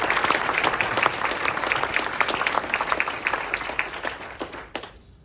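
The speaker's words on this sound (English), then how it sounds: "One more round of applause for Michelle and Jerry." A crowd gives a round of applause for two performers. Dense, continuous clapping holds steady for a few seconds, then thins and fades out quickly at the end.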